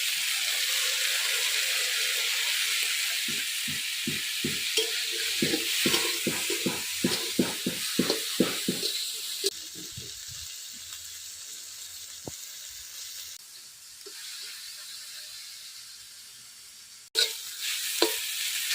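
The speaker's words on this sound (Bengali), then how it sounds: "হয়ে গেছে ভেন্ডি ভাজা।" Okra frying in a pan: a constant oily sizzle and hiss, broken by a quick run of rhythmic scraping strokes as the pieces are stirred, then settling back to steady frying.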